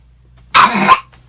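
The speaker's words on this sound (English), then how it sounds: "get your coughing out now" A single burst of coughing, close and fairly loud, lasting about half a second against a quiet background.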